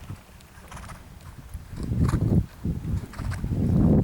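A sensitive ridden horse's hooves clip-clop in a steady rhythm, close and fairly loud, with low rumbling movement and a brief whinny-like sound mixed in.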